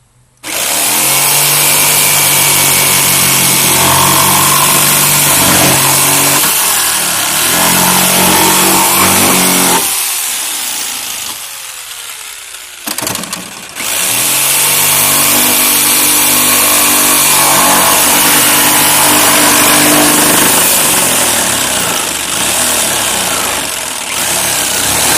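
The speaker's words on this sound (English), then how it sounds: "Alright, and we'll jigsaw across here." Jigsaw cutting through the rear bumper of a BMW X5 E70, a loud, close, continuous buzzing saw drone that stops briefly midway, then resumes for a second long cut.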